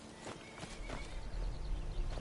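Horse hooves clip-clopping in Skyrim, a steady run of soft footfalls under a low background rumble, moderately close.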